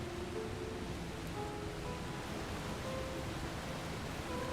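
A waterfall in Final Fantasy XIV pours in a steady, full roar of rushing water that holds unchanged throughout, with no voices over it.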